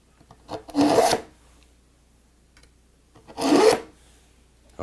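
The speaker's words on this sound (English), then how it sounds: "So I'm going to sharpen this" A kitchen knife is drawn through a Samurai Shark sharpener in two separate rasping strokes about two seconds apart, each a close, loud scrape with quiet between and no talking.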